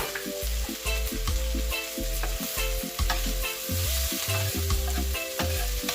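An egg fries on a flat grill for shrimp fried rice, a loud steady sizzle broken by repeated scraping and stirring strokes of a metal spatula in an uneven rhythm.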